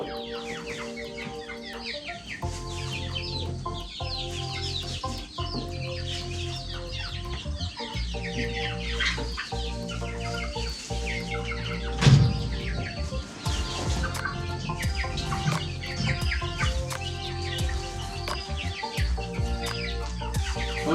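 Young chickens in a Rubbermaid brooder cluck and chirp continuously up close, a busy overlapping chatter of calls with occasional louder squawks, while a low steady hum runs underneath.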